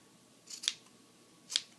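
Scissors cutting through fabric along the seam of a rag quilt, two crisp close snips about a second apart in an otherwise quiet room.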